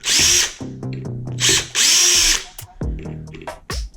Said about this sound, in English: we're gonna take these 3 screws out of the center